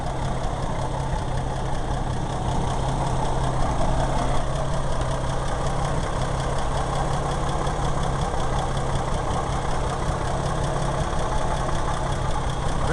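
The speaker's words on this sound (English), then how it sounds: "That's why we get such a unique exhaust sound." A V8 engine with a Holley 4-barrel carburetor idles steadily through cast headers, a deep, lumpy exhaust rumble, constant and close, no voices over it.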